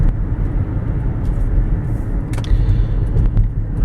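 A 2004 Lexus RX330 AWD SUV rolls along back roads, its interior filled with a steady, low engine and road rumble. A couple of faint clicks rise over the hum.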